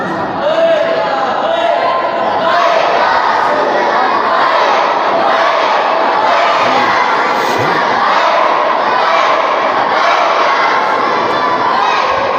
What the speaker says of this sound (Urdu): یہ جو لبیک کا نعرہ ہے